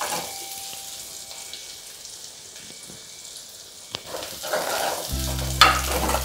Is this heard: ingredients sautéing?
yes